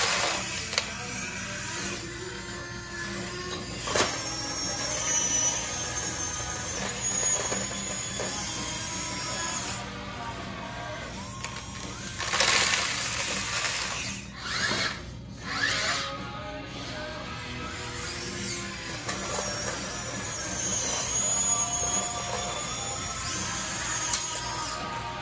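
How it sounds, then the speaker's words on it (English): The slew motor of a Huina 1580 RC excavator with a wall box slew gear whirs and buzzes in short, repeated bursts of electric gear whine, fairly faint and close, separated by brief pauses. "This is my first time operating a machine with a wall box slew gear and a Magnum slew motor"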